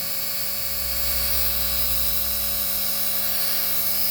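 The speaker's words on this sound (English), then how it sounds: "this is just to be a very brief, motor run test for demo only" A high-pitched electric motor of a Flyzone Micro DH.82 Tiger Moth RC plane whines steadily at full throttle, a constant loud buzzing drone with a low hum underneath that shifts slightly partway through.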